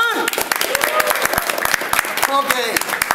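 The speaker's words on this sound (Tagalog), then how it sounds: "Palakpak naman kayo dyan!" A church congregation of Filipinos in South Korea claps at a talent show, with sharp individual claps scattered over voices and cheering from the crowd, close and lively.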